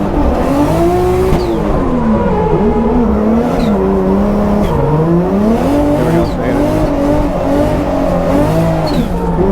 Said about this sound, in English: watching me do laps on a skid pad in someone else's car